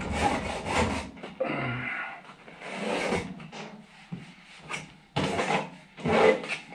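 Abrasive scuffing on a Whirlpool electric dryer door surface while preparing a door gasket repair, with several bursts of rough rubbing and scraping separated by short pauses, close up and moderately loud.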